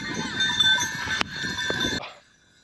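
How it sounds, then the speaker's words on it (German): Bleating from a flock of sheep mixed with clanking bells, fairly close, outdoors on Sant'Antioco island, cutting off abruptly after about two seconds. "Schafe sind definitiv da."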